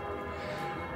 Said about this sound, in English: Lots of church bells ringing at just before 10 o'clock.